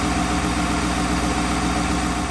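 A loud, steady engine idle from a 2025 Ford F-350 Lariat pickup's 6.7-liter Power Stroke turbo diesel, with a deep, even rumble throughout, close by and unbroken.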